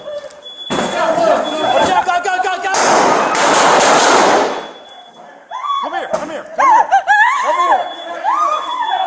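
Gunfire erupts during a police shooting in downtown Los Angeles, heard as a dense burst of loud, sharp reports, then shouting officers and commotion follow closely.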